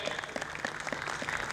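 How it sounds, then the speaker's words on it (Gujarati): Audience applause at a sangeet sandhya wedding music evening, a steady wash of many hands clapping throughout, fairly loud and close with no break. "જોરદાર તાળીઓ થઈ જાય"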